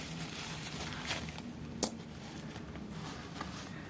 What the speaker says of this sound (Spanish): Un par de monedas.